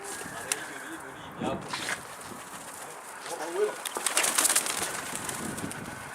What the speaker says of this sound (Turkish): Şükrü'nün kuşu ne bu